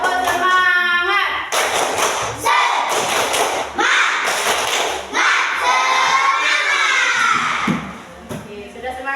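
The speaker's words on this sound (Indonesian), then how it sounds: "Coba tepuk semangat dulu ya." Schoolchildren in a classroom clap a rhythmic spirit-boosting pattern together, loud thumping claps in bursts alongside shouted children's voices.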